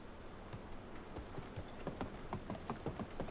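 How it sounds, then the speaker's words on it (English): Horse hooves clip-clopping in the video game Gun, a faint run of quick, rhythmic hoof strikes that grows slightly more distinct toward the end, with no talk over it. "my horse taking me across"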